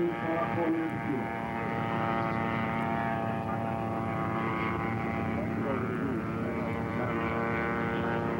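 A radio-controlled model airplane on final approach turns over a field, its propeller engine buzzing steadily with layered harmonic whine, fairly loud and continuous, while a commentator talks over it.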